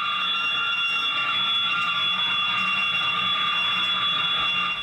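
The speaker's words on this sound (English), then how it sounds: "Jedward have ignored the alarm for the past 50 minutes." An electric alarm bell rings continuously inside the Big Brother house, a loud, steady metallic tone sustained without a break and heard alone.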